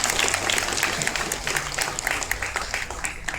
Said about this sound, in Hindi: ताली नहीं बजाएगा अपना समुदाय के लिए